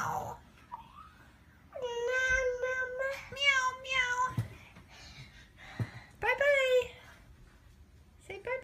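A young child imitates a cat's meow, voicing two drawn-out, pitched mews close to the microphone with short pauses and quiet room sound between them.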